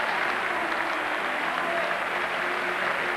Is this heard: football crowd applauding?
yes